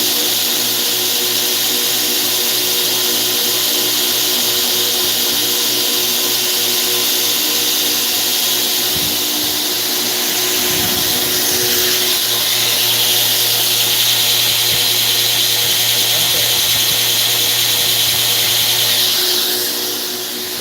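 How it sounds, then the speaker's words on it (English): A belt grinder grinding a knife blade, a loud steady whining roar with a constant motor hum and brief shifts in pitch as the blade meets the belt, no talk. "Let's go ahead and jump into grinding a little bit."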